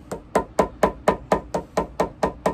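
Steady hammering on a shoe during resoling, about ten sharp blows in an even rhythm, close and clear with nothing else over it.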